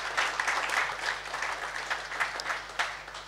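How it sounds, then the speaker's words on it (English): An audience claps for a panel of speakers at a church service, with sustained, fairly dense applause throughout that stays steady without cheering. "Please, a round of applause for all the panelists."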